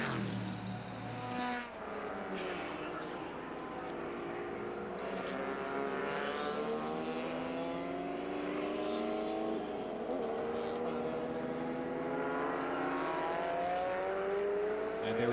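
Engines of closed-circuit race cars, including a yellow Pontiac Firebird being flung side to side through a quick right-left chicane, whine and rise and fall in pitch as the cars shift and accelerate. The sound is continuous and fairly loud.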